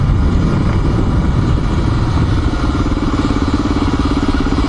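A Honda XR400R dirt bike engine drones loud and continuous up close on a trail ride along a rural road in north Georgia, holding a steady rough throb with no pauses.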